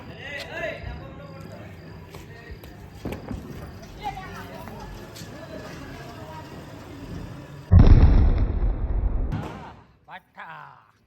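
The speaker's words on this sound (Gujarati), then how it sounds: "હાલો મારે નયનભાઈ આવી ગયા છે બોમ્બ ફોડવા." Diwali firecrackers go off outdoors at night: scattered sharp pops and distant bangs under people talking, then one loud close burst with a roaring crackle that fades out.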